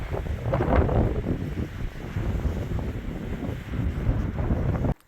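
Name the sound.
wind on a mountain summit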